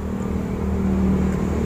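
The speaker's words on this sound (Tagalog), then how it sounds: "Maingay pa sasakyan guys." Noisy vehicle passing outside, a steady engine drone and hum with a slight rising whine, continuous throughout at moderate loudness, no voices.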